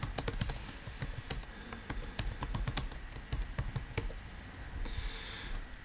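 Quick, close clicks of typing on a computer keyboard run in uneven bursts, crisp individual keystrokes tapping alone without talk.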